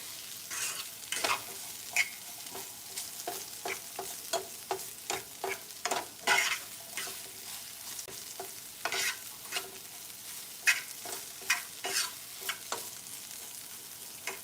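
Onions and peppers fry in a pan for shrimp chow mein, a steady close sizzle broken by repeated scraping stir strokes in an irregular rhythm, with no talking.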